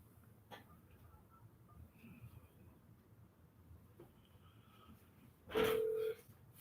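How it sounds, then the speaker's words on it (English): A telephone call being placed: a brief tone near the start and a faint beep partway through over quiet background hiss, then a loud steady ringback or dial tone around the end lasting about half a second. "Wait, I dialed it wrong."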